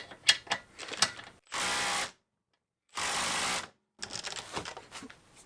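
Homemade air-to-electric right angle ratchet driver tightening a bolt: two solid bursts of motor whir, each about half a second to a second long, separated by silence and framed by close clicking and clattering handling noises.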